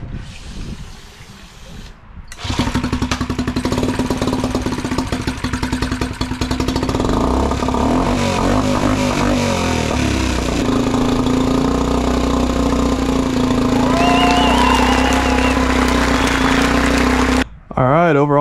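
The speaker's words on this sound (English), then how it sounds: "this little Mercury motor kicks butt, fired right up, runs great." A small Mercury outboard motor cranks, catches and settles into a steady, loud running drone with mechanical clatter, staying close and continuous before abruptly cutting out near the end.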